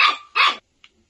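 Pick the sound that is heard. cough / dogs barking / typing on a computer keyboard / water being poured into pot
dogs barking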